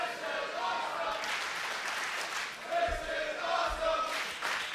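A sold-out wrestling crowd at Full Sail University in Orlando, Florida roars and chants in rhythm, a dense wash of voices with rising swells, heard during a TNA X-Division title match.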